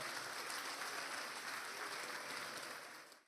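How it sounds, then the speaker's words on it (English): Audience applause fills a formal Lagos State records and archives presentation ceremony, a dense, steady wash of clapping from a crowd that holds strong for about three seconds before tapering off at the end, with no talking over it. "Can we please give him a resounding round of applause?"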